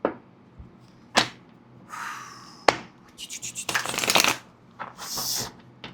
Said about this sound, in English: let me give the cards a good shuffle.